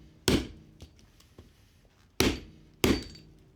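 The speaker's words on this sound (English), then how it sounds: "combination of my broken screwdriver and the vise and hammering" A hammer drives a broken chisel-like screwdriver into the core of a small transformer held in a vise: three sharp, loud metallic strikes, spaced irregularly, with faint taps between them.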